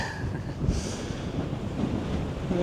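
Strong winter wind gusting over a microphone outdoors around Zion, a continuous low buffeting rumble with a gust swelling near the start and again at the end, no talking.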